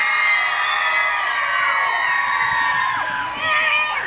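An audience cheers for contestant number one at a Pontins Southport show, with loud shrieking and whooping voices, many of them high and childlike, rising together and holding for a few seconds.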